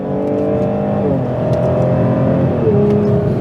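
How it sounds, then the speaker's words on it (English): A Holden Commodore engine revving up under acceleration out on a motorway, a loud, steady engine drone with rising pitch and a gear shift, close and unbroken throughout. "once you get it out on the motorway, it is fast, it shifts really nicely, and makes a great noise"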